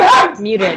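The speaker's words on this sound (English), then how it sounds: "My dog." A dog barks once at close range, a short loud yelp that drops into a softer whining tail, with a brief word spoken over it.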